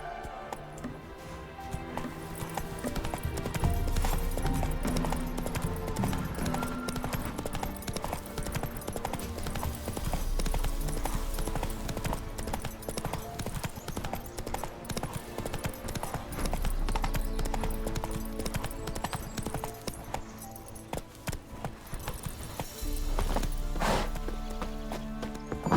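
Horse hooves clip-clopping at a fast gait in The Witcher 3: Wild Hunt, a steady rhythmic drumming that runs nonstop over game music and ambience, with a faint whinny.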